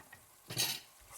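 Smoked paprika being stirred into a pan with a utensil, one short scraping swish against the pan over a soft background sizzle, with no talking.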